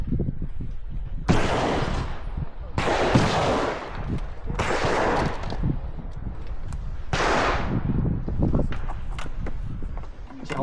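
Shotguns fire at a 100-bird clay shoot outdoors: four loud, booming blasts spaced a couple of seconds apart, each with a rolling tail, and people talk in between.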